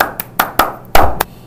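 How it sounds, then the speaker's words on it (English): Hand clapping, seven sharp, close claps in an uneven rhythm over a second and a half. "we do have to clap in his presence"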